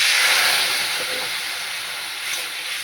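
Bengali mustard-paste masala for a small bata fish curry sizzles steadily in a pan, a close, continuous bright hiss that fades slightly partway through, with no talking.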